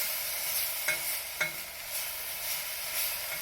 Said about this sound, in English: Can you give me a little bit of a stir there, buddy? Just make sure all those herbs and spices are all together.